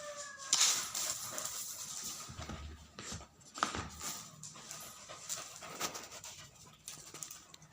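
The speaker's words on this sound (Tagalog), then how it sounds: "Yung asong makulit." A playful dog pants and whimpers close by, with quick bursts of breathing, soft whines and light pattering, all fairly quiet throughout.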